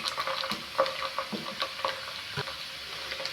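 Ginger and garlic paste frying with lightly browned onions, a soft, close sizzle broken by crackling pops and the scrape of stirring, over a few seconds.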